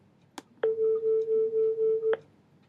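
Two pure test tones sit near 440 hertz and sound together as one steady hum that pulses in rapid, regular beats for about a second and a half. A short click comes just before, and no other sound is present.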